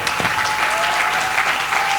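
A congregation claps together at a Sunday church service, producing a dense, steady, loud wash of applause that holds evenly for the whole stretch.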